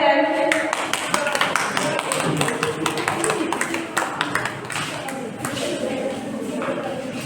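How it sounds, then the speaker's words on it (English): Audience at a school in-house cyber security training session applauding a group: a burst of many hands clapping, loudest at first and then thinning out, with voices mixed in. "can we just applaud for them?"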